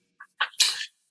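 A single sneeze, close and sharp: a brief nasal intake followed by a loud, breathy burst lasting about half a second, alone with no talking.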